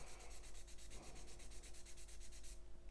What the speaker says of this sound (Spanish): yo le paso la lija, con cuidado, veis, sin llegar a esta zona para no comérnosla